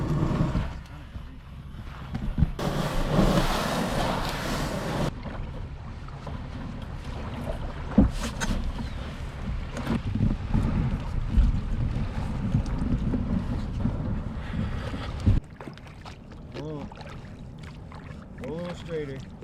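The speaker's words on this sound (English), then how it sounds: "You're officially out on the canoe on Lake Superior." A canoe out on the open water of Lake Superior, with steady wind buffeting the microphone and soft water lapping against the hull throughout, joined by a gust-like rush early on and a few knocks.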